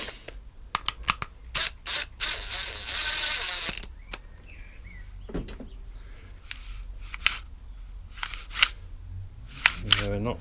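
A lawnmower's recoil starter cord is yanked in one long whirring, ratcheting pull, surrounded by scattered sharp mechanical clicks and snaps from the starter assembly, fairly close by.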